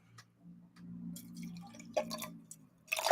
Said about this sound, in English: I'm opening my water bottle and pouring coffee from a different container